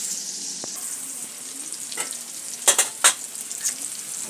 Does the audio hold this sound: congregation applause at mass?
no